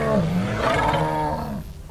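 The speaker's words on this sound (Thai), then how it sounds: "อันนี้เสียงขู่นะครับ" A deep, rumbling Carnotaurus threat growl from the game Path of Titans, with a tonal snarling edge, loud and close, holding for nearly two seconds before trailing off.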